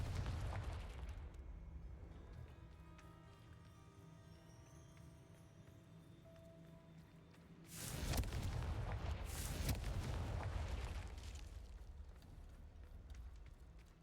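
Blasting spell explosions from the fantasy action game Hogwarts Legacy, a sudden loud burst with a roaring, crackling tail that swells and lingers over a steady low ambient rumble.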